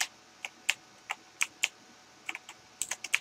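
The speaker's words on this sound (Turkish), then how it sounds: "Klavyenin sesi güzel mi geliyor?" A computer keyboard is typed on in irregular bursts of sharp, close clicks with short pauses between keystrokes and no voices.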